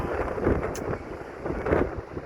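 Strong gusty wind roars and buffets the microphone in Taiwan ahead of a typhoon, a continuous close rushing noise that swells and eases over a couple of seconds.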